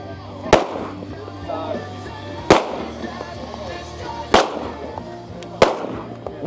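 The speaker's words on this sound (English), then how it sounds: "So Blair will be halfway through after this iteration of her pistol." Four sharp pistol shots ring out at a practical shooting match stage in a women's elite regional, spaced irregularly over a steady outdoor background with faint crowd murmur.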